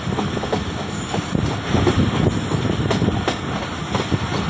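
The Jaffar Express passenger train rolling into Gujar Khan station, a loud, steady rumble of wheels and carriages with intermittent clicks and faint squeals, heard close from on board with wind buffeting.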